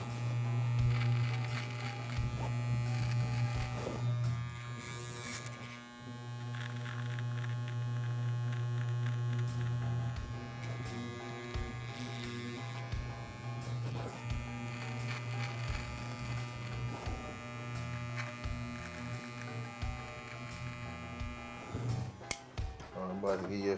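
An electric shaver buzzes close up while shaving a head down to bald, a steady droning hum with slight shifts in pitch as it moves across the scalp.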